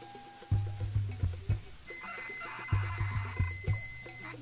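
A ZX Spectrum computer's program-loading tones play from a phone through the Spectrum's speaker: sustained electronic buzzing and warbling tones with rhythmic pulsing bursts, fairly quiet and close.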